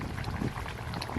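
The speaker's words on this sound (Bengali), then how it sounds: "ঝোল ফুটে গেছে" Fish curry broth with rohu and ridge gourd bubbling at a steady simmer in a pot, a soft continuous gurgle heard up close with no voices.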